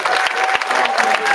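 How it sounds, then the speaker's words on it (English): A banquet audience at a Freedom Fund dinner gives a burst of loud, close, dense clapping that stays steady for the whole short moment. "Please just give them a round of applause."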